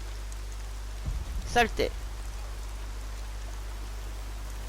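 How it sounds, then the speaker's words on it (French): Steady rain falls in the game Horizon Zero Dawn as a continuous, even hiss running through the whole scene, with a brief spoken exclamation rising above it near the middle. "La pluie effacera mon odeur quelque temps."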